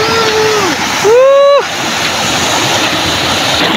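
Water flows and splashes at a jungle river near falls and pools, a steady broadband rush throughout, with a brief voice shouting over it early on.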